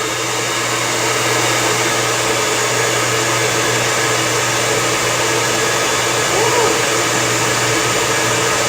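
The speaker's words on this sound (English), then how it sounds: "the last thing that I do with every blow dry is make sure that I hit air down the hair strand every time" A hair dryer roars steadily and loudly at close range as it blows air down strands of hair, a constant whooshing hum with a low motor tone and no pauses.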